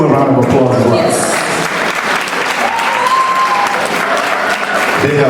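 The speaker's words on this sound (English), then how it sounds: "So can we give them a round of applause as well?" An audience at the Ghanaian Professionals Network annual gala breaks into loud, sustained applause, clapping densely for several seconds, with a voice briefly heard at the start and end.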